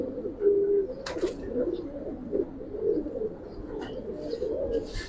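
Giribaz pigeons coo in a series of soft, low, repeated throaty calls, close by, with a few brief sharper sounds between them.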